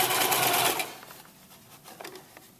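A sewing machine runs a zigzag stitch along the edge of a fabric treat bag, a close rapid whirring burst under a second long, followed by quieter clicks and handling of the fabric.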